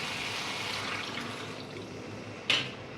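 Water pours into a spiced curry after the masala has been cooked down. It makes a steady, broad rushing hiss that eases off toward the end, then gives a brief splashy burst. No one speaks.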